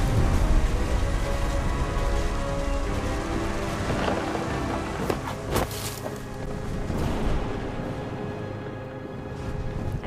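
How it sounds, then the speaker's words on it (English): Steady rain with rolling thunder in the video game What Remains of Edith Finch, a dense wash of downpour with a few sharp cracks and deep rumbles, heard alone with no talking. "The thunder sounded much too close and full of angry power."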